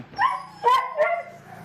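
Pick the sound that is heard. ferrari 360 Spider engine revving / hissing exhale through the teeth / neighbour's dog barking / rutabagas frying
neighbour's dog barking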